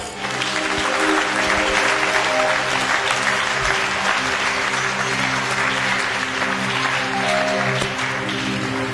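A church congregation applauds and acclaims with continuous, loud clapping. Sustained tones and voices run underneath the clapping for the whole stretch.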